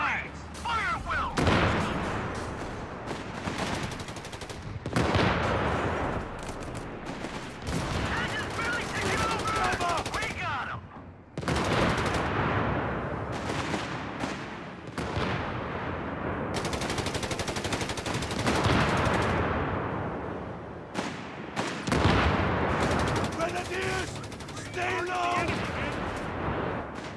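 Machine gun bursts and scattered gunfire in the Company of Heroes 3 Italy campaign, long loud volleys broken by short pauses, with booms and voices mixed in the battle noise.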